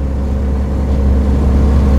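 A 1990 Scania 113 truck cruises in 9th gear, its engine giving a loud, steady low drone with a constant rumble heard from inside the cab.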